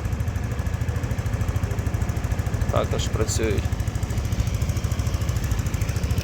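Suzuki Address 125S Japanese two-seat scooter idling with a steady, close putter of its small engine, loud and even throughout, while someone speaks briefly over it.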